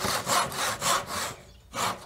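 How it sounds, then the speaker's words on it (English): A hand saw cuts wood for a tenon in even back-and-forth rasping strokes, about six close, clear strokes with a brief pause before the last, and no talking. "The only thing I'm doing is really guiding the saw back and forth."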